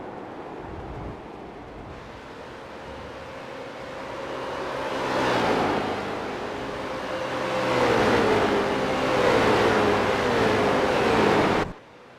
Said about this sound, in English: First corners, you see cars all over the place on the track here tonight.